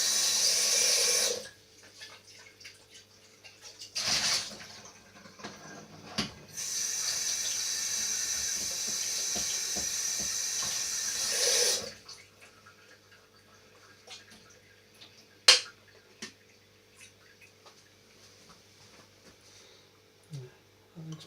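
Water runs from a tap and is swished around inside a Silvercrest tea maker kettle to rinse it out, bursts of rushing water separated by quieter gaps with sloshing, clinks and faint handling sounds.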